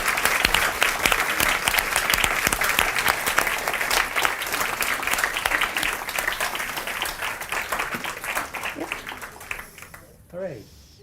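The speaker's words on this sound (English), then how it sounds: "And one last round of applause" A conference audience at AdaCon Norway 2024 gives a long burst of dense, steady clapping that fills the room and then fades out, followed by a brief voice at the end.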